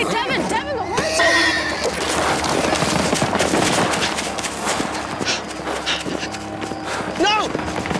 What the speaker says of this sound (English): Wait, Devin, the horse!